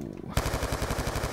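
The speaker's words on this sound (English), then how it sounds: "Lay down the cover fire." Rapid machine gun fire from the video game Call of Duty: Black Ops 2 breaks out after a short quiet lead-in, a loud, steady stream of closely spaced shots that runs to the end.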